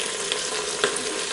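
Rice hits a hot pan and fries with a dense, crackling sizzle and faint stirring scrapes, short and close, while rice with chicken and rabbit is being cooked.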